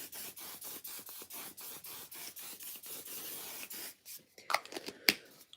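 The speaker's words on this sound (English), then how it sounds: "I'm going to spray again." A skincare spray bottle is pumped in a rapid series of about a dozen short, close hisses at an even rhythm, followed by a few scattered rustling handling sounds.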